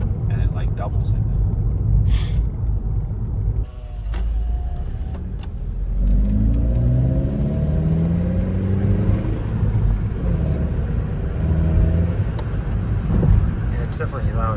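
A car engine with a newly installed muffler accelerates with a deep, throaty rumble that swells as the throttle opens, heard from inside the car under people talking.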